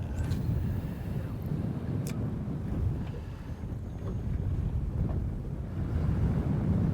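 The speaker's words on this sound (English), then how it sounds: "That wind is really starting to pick up now." Wind blows across the mic at a riverbank on Kedron Brook during a flathead fishing trip, a steady low rumbling buffet with no pauses and no voices.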